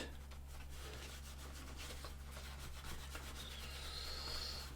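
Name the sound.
applying leather dye with a wool dauber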